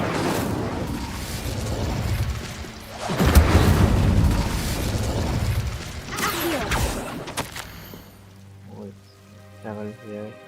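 Spell effects from the Hogwarts Legacy video game, Incendio fire casts and an Expelliarmus, come as loud whooshing bursts and booming crackles with a rain-like roar, tapering into quieter tones and faint game sounds near the end.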